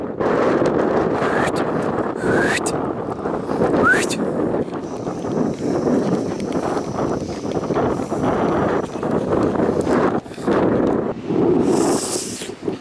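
Strong storm wind sweeps across a large open field and buffets the microphone with loud, continuous rumbling gusts, while a person speaks intermittently over the roar.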